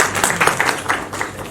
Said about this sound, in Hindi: ये तालियां मैं उनको पहुंचा देता हूँ।